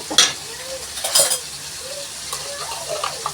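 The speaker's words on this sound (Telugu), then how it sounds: "పేస്ట് కొంచెం వేసాను అల్లం వెల్లుల్లి పేస్ట్" A utensil stirs ginger-garlic paste into onions, tomatoes, curry leaves and green chillies frying in a pan for gongura chicken curry, with several scraping clinks over a soft, steady sizzle.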